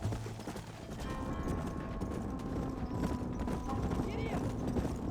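Horse hooves clip-clopping at a gallop in the Red Dead Redemption video game, a steady rhythmic drumming that carries on throughout, with game voices calling out over the top.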